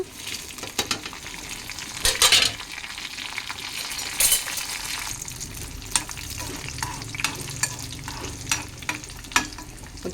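Cumin, mustard seeds, garlic, chana dal and dried red chillies fry in hot oil, giving a steady crackling sizzle with sharp pops and occasional clinks of stirring, close and alone.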